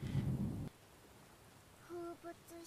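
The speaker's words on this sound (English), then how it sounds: "Where did this rain come from?" Rain and thunder in an anime episode: a loud, low thunder rumble fills the first part, then cuts off to quiet, followed by a few short tonal sounds.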